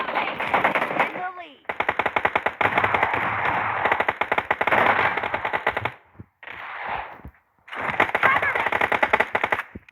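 Rapid machine-gun bursts in a shooting video game, loud dense rattling volleys that stop and restart in several clusters, with brief pauses between them.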